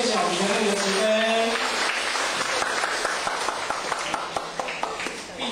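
Audience applause at a Chinese-language ceremony for a training class, a dense wash of clapping that fills the hall, steady and loud, then thinning into scattered claps toward the end.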